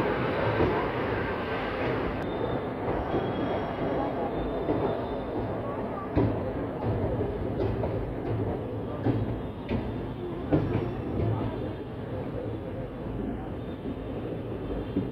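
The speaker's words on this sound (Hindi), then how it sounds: "अभी इसका आखिरी stop Pilibhit junction railway station पर होगा हमारा, उसके बाद ये टनकपुर के लिए रवाना हो जाएगी।" A Tanakpur–Mathura Mela Special Express running between Bareilly and Pilibhit, heard from inside as a steady close rumble of wheels and carriage with occasional clanks and jolts, no talking.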